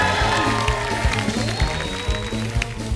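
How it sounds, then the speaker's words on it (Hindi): Loud studio audience applause with cheering on a television comedy show, sustained clapping under a busy crowd din and some voices. "आया आया, जोरदार तालियां।"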